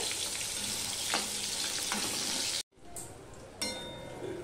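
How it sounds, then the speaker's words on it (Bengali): Brinjal slices fry in oil in a pan with a steady, close hiss. The sizzle cuts out briefly, then returns with a sharp burst as the pieces settle back in. "বেগুনের এক পিঠটা দেখো লাল লাল হয়ে ভাজা হয়ে গেছে। এবার আমি অপর পিঠটা এইভাবে ভেজে নেব।"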